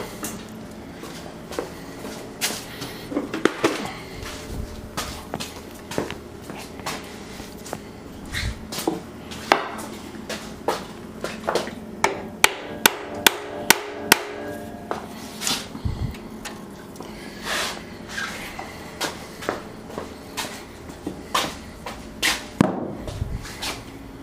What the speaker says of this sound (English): I'm going to tap it this way, and I'm going to tap it this way, and I'm going to tap it that way, back and forth